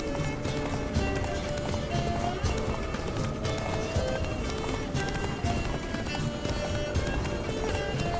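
Rapid rhythmic hoofbeats of a galloping horse in the video game The Witcher 3: Wild Hunt pound steadily throughout, close and continuous, with occasional background noise.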